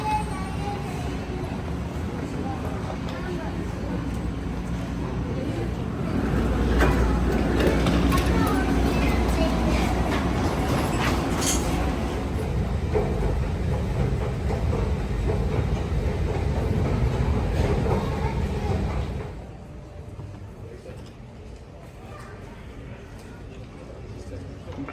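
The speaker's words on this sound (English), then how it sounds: "we need to take the transit train, and we'll get off at the next stop" An airport transit train at Heathrow rumbles steadily along, with rattling and people talking over the noise, before the rumble drops off near the end.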